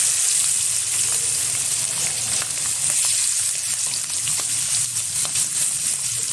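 Cleaned shrimp frying in hot oil seasoned with turmeric and salt, a dense steady sizzle with faint crackles and occasional soft stirring, close and continuous with no talking.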